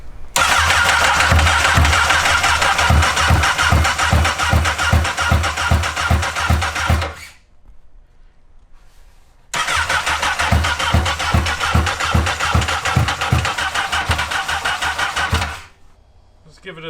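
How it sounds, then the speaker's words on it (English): A Honda CBR1000RR superbike engine swapped into a Honda N600 micro car cranks over with a rapid, steady starter rhythm for about seven seconds. After a short pause it cranks again, loud and close, without catching. "Cranking."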